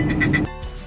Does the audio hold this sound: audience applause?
no